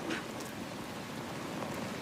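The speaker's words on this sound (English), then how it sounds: "What are you doing sat out here in the rain?" Steady rain falls outdoors, a dense, even hiss with soft patter that stays constant for the whole moment, with no voices over it.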